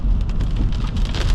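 Steady heavy rain drumming on a car while driving in Canada, a dense continuous patter with deep low rumble throughout, close and loud with no voices.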